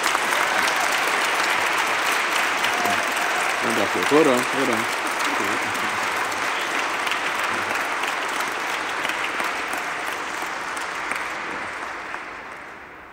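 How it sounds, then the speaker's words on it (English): Wedding guests at a Jewish-American and Nigerian-Catholic ceremony break into sustained applause and cheering that fills the room, holding steady for several seconds before slowly tapering off, with a brief spoken interjection partway through. "Let us give them a round of applause."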